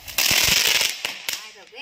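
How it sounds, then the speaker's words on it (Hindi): A large Diwali firecracker bursting outdoors during family celebrations: a loud crackling, hissing burst with several sharp pops over about a second, close by, with voices partly overlapping. "तो वो जला रहा है पटाखा बड़ा वाला है, ऊपर जाके फूटेगा ये"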